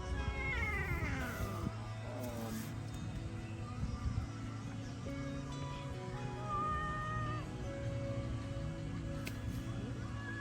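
A cat meows and caterwauls repeatedly outdoors in Malaysia, with drawn-out, wavering cries close by and a few faint background sounds.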